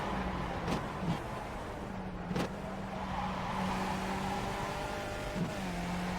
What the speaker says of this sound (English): based on what the engine sounded like right there